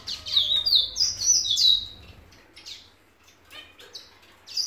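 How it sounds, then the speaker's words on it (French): Mixed small birds in an outdoor aviary on Réunion, including mandarin and other finches, chirp and tweet in bright, high bursts, busy at first then sparser and quieter, with a low hum underneath early on. "Et ici, c'est les oiseaux un peu mélangés."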